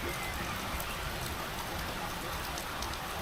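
Rain falls steadily in the Swiss mountains, a dense, even, loud hiss of drops with no letup throughout.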